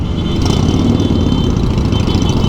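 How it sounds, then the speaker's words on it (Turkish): Loud, rough motorcycle engine rumble with a deep unmuffled exhaust, muffler removed, in a motorcycle convoy, steady and close, filling the whole stretch without pause. "Sanırım herkes bunu fırsat bilip bazı egzozların susturucuları çıkartılmış"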